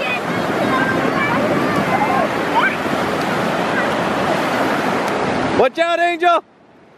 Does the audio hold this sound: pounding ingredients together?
no